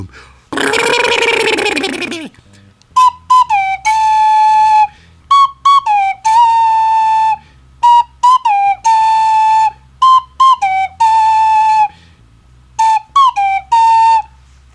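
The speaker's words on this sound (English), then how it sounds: "Let those whistles go!" Loud whistles ring out as a wrestler's entrance music hits at a wrestling event: a short burst of noise, then repeated sharp, high whistle tones in quick broken bursts with brief gaps between them.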